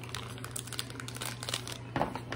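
A plastic bag holding a liquor-infused popsicle is squeezed by hand close up, giving soft continuous crinkling and crackling with a sharper crunch near the end, fairly quiet.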